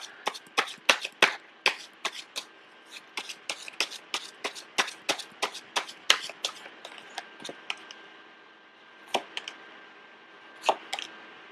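Close, crisp riffles and snaps of a deck of cards being shuffled repeatedly in quick bursts, then a few slower, scattered flicks.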